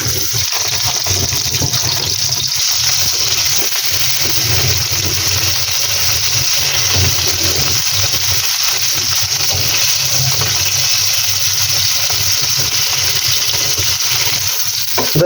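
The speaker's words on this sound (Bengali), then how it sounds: "তেল গরম হয়ে গেছে, এখন মাছগুলো ভেজে নেব।" Hilsa fish pieces fry in hot oil in a frying pan, giving a steady, loud, continuous sizzle with a broad hiss that holds evenly throughout, with no voices.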